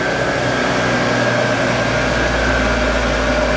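A Siemens electric motor in a converted BMW 320i spins up, giving a steady, loud whine with a low hum that rises in level partway through, with no talking.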